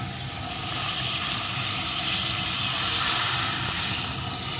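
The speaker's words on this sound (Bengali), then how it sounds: "এখন পাত্রটা ধরে ঢেলে দেব।" Liquid pours from a pot into a bitter gourd fish curry as a continuous hissing, splashing stream that swells briefly midway, close and fairly loud with no voices.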